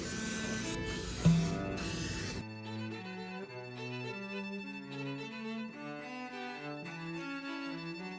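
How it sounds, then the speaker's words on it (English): Canola oil cooking spray hisses in a few short, loud bursts into cake pans, followed by quiet background music. "I'm going with the alternate handy dandy canola oil spray."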